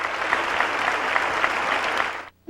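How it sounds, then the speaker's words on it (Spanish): Thunderous applause from a large crowd after a minute of silence at a memorial for a figure devoted to Mexican culture, a dense continuous roar of clapping that cuts off abruptly at the end. "Un minuto de silencio y luego el estruendo del aplauso"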